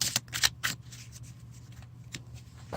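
A deck of mini tarot cards being shuffled gives a few quick, crisp riffling bursts near the start, then fades to a quiet, faint rustle.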